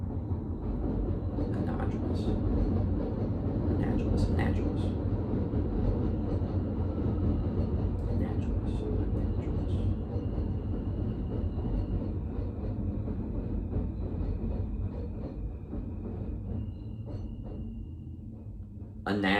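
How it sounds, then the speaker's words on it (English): A train rumbles past close by, a heavy steady roar with rattling wagons throughout, while a voice speaks briefly over it. "we'll wait for the train to go by."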